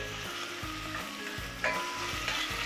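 Steady, loud sizzling of meat searing in a hot pot for tas kebab, with a brief burst of sharper hissing partway through.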